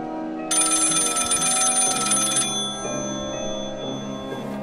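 An old-fashioned telephone bell rings loudly in one sustained burst for about two seconds, then stops, leaving a low tonal background hum in a film-noir scene.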